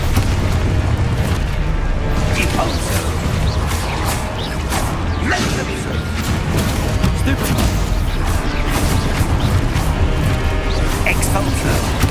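Confringo fire spell blasts in the Hogwarts Legacy game, loud booming explosions and whooshes layered thickly over one another while players shout throughout.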